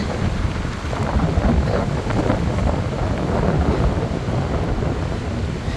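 Strong gusting wind by the sea buffets the microphone with a continuous roar, rumbling low and steady throughout, with no voices.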